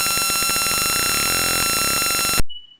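A buzzer driven by a 555 timer and transistor circuit gives a harsh, loud, continuous electronic buzz with a warbling, rasping texture. It cuts off abruptly, leaving only a faint thin tone.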